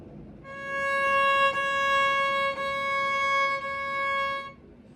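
A violin, its fingerboard marked with tape for a beginner, plays a sustained bowed note held for about four seconds, clear and close, with faint bow-change breaks partway through.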